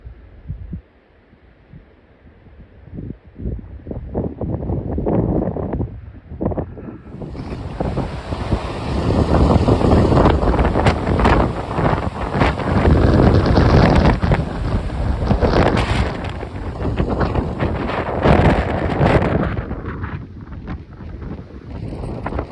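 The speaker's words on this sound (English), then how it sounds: "Pretty windy." Strong wind on a Mt Whitney day hike near Lone Pine Lake roars and buffets the microphone, building from gusts into a loud, sustained rush before easing slightly near the end.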